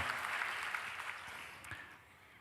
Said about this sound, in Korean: 야, 박수까지 받고 대단하네.